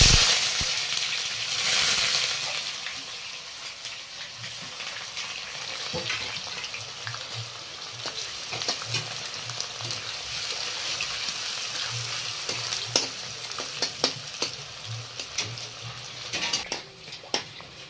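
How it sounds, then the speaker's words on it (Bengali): Onions frying in hot mustard oil with whole garam masala and bay leaves in a home kitchen, a steady sizzle with scattered crackles and pops, occasional stirring clatter, continuous and fairly close, without talk. "পেঁয়াজ লাল করে ভাজা হয়ে গেছে"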